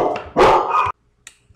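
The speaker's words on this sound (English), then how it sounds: "My dogs were barking" Two dogs barking loudly and close at hand in a home, a dense burst of barks over about a second, then a brief faint yip after a pause.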